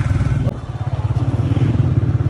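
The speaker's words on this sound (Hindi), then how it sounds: "ये बाइक भी मैंने स्विच की है अभी" A motorcycle engine runs close by with a steady, throbbing low idle and a slight rise in the beat, heard on its own for a couple of seconds.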